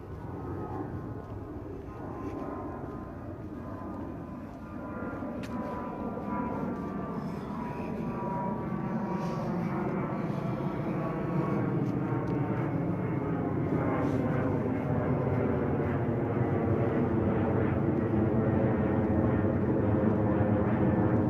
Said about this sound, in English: Another plane out of John Lennon